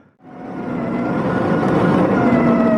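An Energica EsseEsse 9 electric motorcycle's motor whines as the bike pulls away on an offroad build, a steady tonal hum that swells in loudness and holds strong without a break.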